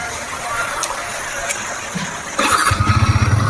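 Over a noisy background with faint voices, a nearby Yamaha MT-15 V4 155cc motorcycle engine cranks to life and settles into a steady, throbbing idle.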